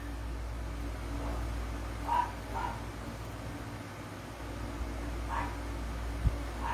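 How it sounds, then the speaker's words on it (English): Dogs bark indoors, a couple of short muffled barks early and another later, faint and somewhat distant over a steady low hum. "Excuse my dogs"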